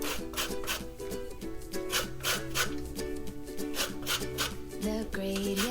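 A lemon is zested for a chicken kabob marinade: repeated rapid scratchy rasping strokes against a zester, close up and fairly steady, with soft music playing underneath.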